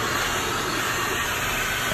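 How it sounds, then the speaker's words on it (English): A conventional leaf blower blasts loose debris out of a car engine bay, giving a loud, continuous rushing hiss that holds steady and close throughout, with no voices. "I used a conventional leaf blower to kind of get rid of all the laying debris"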